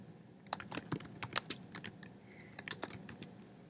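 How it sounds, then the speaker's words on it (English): Typing on a computer keyboard into a document, with quick irregular clusters of light key clicks and brief pauses between bursts, close but fairly quiet and with no talking. "So I could just type my text in here. I'll just type in names here."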